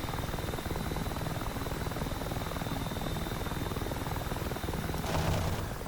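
An AH-6J Littlebird helicopter in DCS World flies over Dubai, its rotor and engine producing a steady, dense, fast-chopping drone that holds evenly throughout with no talking.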